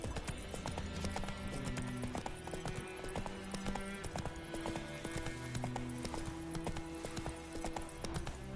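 Horse hooves clip-clop in steady rhythm in The Witcher video game, a continuous, fairly close gait with soft background music and no talk.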